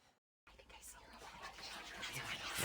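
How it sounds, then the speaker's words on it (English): Hushed whispering drifts through a dark house in the video game What Remains of Edith Finch, faint and breathy after a brief silence, growing slightly louder toward the end. "At the door, she heard whispering."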